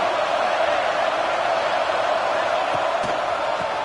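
Stadium crowd at a college football game roars steadily as fans back the defense in the red zone, a dense, unbroken wall of cheering noise held at a constant level throughout.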